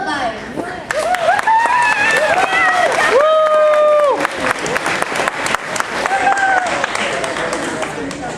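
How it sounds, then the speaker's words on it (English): An audience at a robotics competition closing ceremony applauds and cheers a junior team, sustained crowd clapping with some whoops, alongside loud music carrying tonal melodic lines. "Let's give a big round of applause for the Kilobyte."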